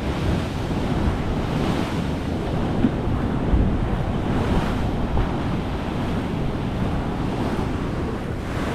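Loud, steady roar of ocean waves breaking and surging continuously, with wind buffeting the microphone throughout.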